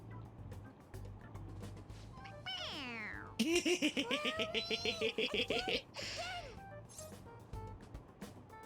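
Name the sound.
stuffed animal toy cat meowing when pressed, Persona 5 Royal video game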